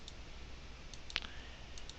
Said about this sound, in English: we just start clicking unfollow